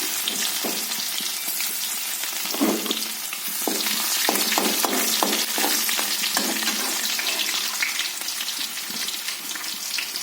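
Dried red chillies and ginger-garlic paste fry in hot oil with a loud, continuous sizzle, punctuated by clattering stirs near the middle.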